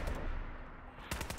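Gunfire in Fallout 4 during a modded survival playthrough: a sharp opening shot, a quiet stretch, then a second loud close burst of shots near the end, with no voices.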